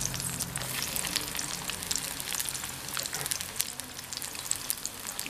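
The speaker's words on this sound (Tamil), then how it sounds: "மஞ்சத்தூளும் உப்பு சேர்த்து மிக்ஸ் பண்ணி வச்சிருக்கிற கத்திரிக்காயை எண்ணெயில் போட்டு பொரிச்சு எடுத்துடலாம்" Brinjal pieces coated in turmeric and salt fry in hot sesame oil, a steady, close crackling sizzle with dense spitting pops that carries on without pause and with no talk.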